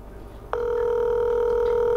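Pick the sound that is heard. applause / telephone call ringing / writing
telephone call ringing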